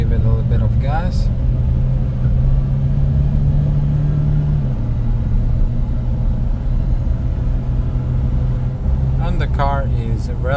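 Mitsubishi Pajero Mini kei car engine under light throttle, a loud steady low rumble with a rising drone as it picks up speed, and a voice talking briefly at the start and near the end.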